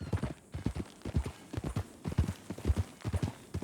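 Horse hooves clip-clopping in Red Dead Redemption 2, a steady trotting rhythm of soft hoof falls at moderate distance, running throughout and mixed with dialogue and faint game ambience.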